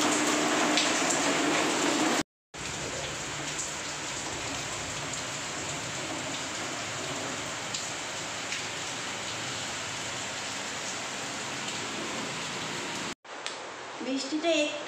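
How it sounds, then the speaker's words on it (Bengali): Heavy rain pours steadily outside a house during a storm, a loud dense hiss broken by two brief dropouts, with clattering and movement near the end. "বৃষ্টিটা একটু কমেছে,"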